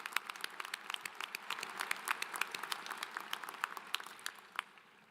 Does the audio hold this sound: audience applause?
yes